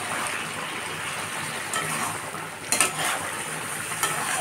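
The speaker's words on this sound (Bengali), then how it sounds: "চিংড়ি মাছটাকে ঢেলে দেবো, দিয়ে একসঙ্গে ভালো করে কষে নেব।" Prawns sizzle in a pan with ash gourd as they are stirred together, a steady close frying hiss with a few scraping knocks of the spatula.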